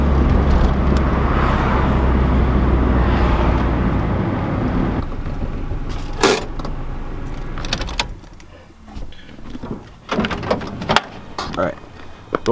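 A car rolls along with a low, steady engine drone and road rumble for several seconds, then slows and goes quieter, leaving clicks, knocks and door-like thumps up close.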